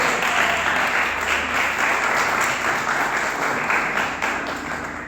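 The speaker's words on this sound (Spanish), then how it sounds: "Denle un aplauso" Steady applause from a church congregation for a pastor, a dense, continuous roll of clapping that stays strong and fades slightly near the end.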